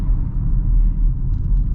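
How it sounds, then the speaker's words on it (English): A 2023 Hyundai Tucson Limited Hybrid's petrol engine kicks in while driving, a loud low rumble and droning hum from inside the cabin that holds steady throughout. "engine just turned on right there"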